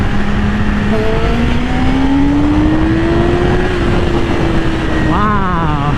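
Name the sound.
Yamaha R6 motorcycle engine revving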